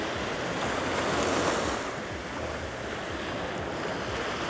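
Sea waves washing back from the shore, a continuous loud rush of surf and receding water with wind buffeting the microphone, swelling slightly then easing, no voices.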